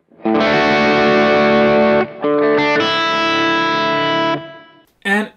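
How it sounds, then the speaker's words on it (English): An electric guitar with distortion plays sus2 chords, two loud sustained strums that ring for about two seconds each, followed by a brief burst of speech at the end. "the chord loses its major character and it's now called a sus2 chord, suspended 2 chord"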